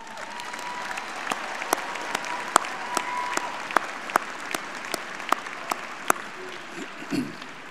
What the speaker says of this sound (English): let's give your parents and family members one more big round of applause